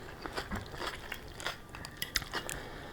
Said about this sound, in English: Those onions are crunchy. I can hear them when I'm chewing.